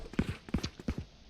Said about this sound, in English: Brandon making a lot of footsteps, a lot of noise along with Lincoln here